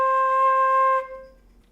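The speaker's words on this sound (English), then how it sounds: "Okay, so our first note is C." A flute sounds one steady, clear sustained C for about a second, played alone up close, then fades into room quiet.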